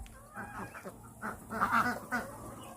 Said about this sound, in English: We released the baby ducks out of the pre-range pen.